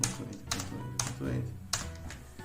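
A few computer keyboard key presses land under ongoing speech in a quiet room, brief clicky taps with a soft combination press near the middle.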